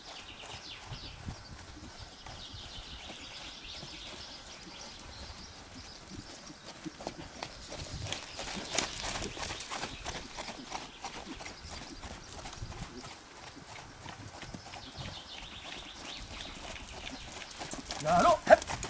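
A horse gallops on a lunge line while a trainer works it, hoofbeats clip-clopping steadily at moderate distance under frequent talking, with a louder burst near the end.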